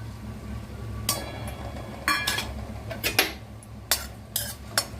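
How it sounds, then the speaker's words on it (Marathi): Chopped dry fruits stirred in ghee in a pan, with a spoon scraping and clinking against the metal in several separate strokes over a low, steady background. "त्याच्यामध्ये आपण हे जे ड्रायफ्रूट आहेत बारीक केलेले ते फ्राय करायचे"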